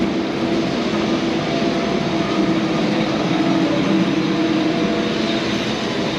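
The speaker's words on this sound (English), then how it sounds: "here's an old tram, look." A steady, loud mechanical rumble of an old tram passing on a street in Portugal fills the whole stretch, a continuous low drone with no voices.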